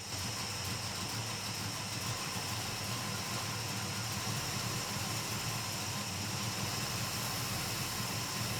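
A carbureted engine idles low and steady at close range, a continuous even rumble with a faint hiss and no voices over it.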